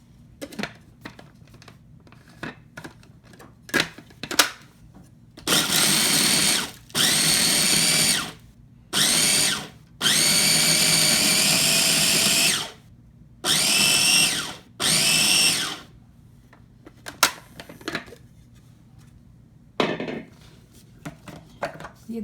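Electric chopper whirs in several loud bursts of a few seconds each, chopping dried mint and coriander, with clicks and knocks of handling between the runs.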